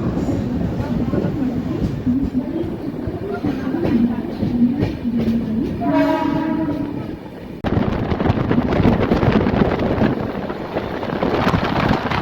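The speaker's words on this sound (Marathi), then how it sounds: "दादर सेंट्रलवरून आपली ट्रेन निघालेली आहे" Udyan Express 11301 pulling out of Dadar Central station, a steady loud rumble of wheels and carriage noise with clatter and wind buffeting, a brief tonal squeal midway, continuing throughout.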